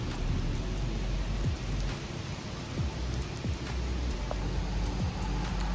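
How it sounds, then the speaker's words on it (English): Steady rain falls during a thunderstorm, a constant wash of noise with several low rumbles of thunder rolling through, no voices over it. "So I drove like 2 hours in the rain for this tournament. It's like thunderstorms and stuff."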